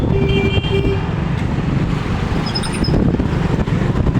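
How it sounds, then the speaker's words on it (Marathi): A mini motorbike rides along a road, a steady engine and wind roar filling the clip with passing traffic noise and a faint horn toot in the background. "बघा सुमितची भाई रायडिंग आता सुरू झाली आहे."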